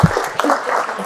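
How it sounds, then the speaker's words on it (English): A round of applause for Becky from a seated audience at a talk, brief and fairly loud, with a low thump at the start and a bit of background voice. "let's give Becky a round of applause."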